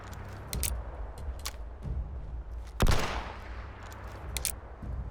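Gunshots from a gun in Fallout 76, several sharp separate reports spread across a few seconds with one louder blast near the middle, over quiet game ambience.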